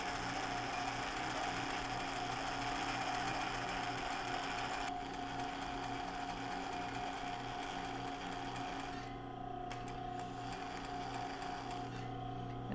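Sewing machine runs a zigzag stitch to attach yarn onto a linen tank top, a fast continuous mechanical whirr and rapid needle chatter heard up close, easing slightly midway, with no speech.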